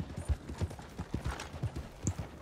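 A short burst of close hoofbeats from a horse in the Red Dead Redemption 2 video game, clopping in an even rhythm with no voices.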